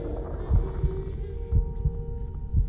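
A pounding heartbeat from the Little Nightmares video game, its low double thumps repeating steadily about once a second over a droning hum.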